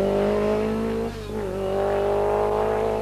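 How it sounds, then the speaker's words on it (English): Supercharged Lancia rally car on a 1983 Circuit of Ireland stage, its engine droning loud and close with a steady harmonic whine that dips briefly as it lifts off, then pulls hard again. "Airikkala is getting well used to the supercharged Lancia."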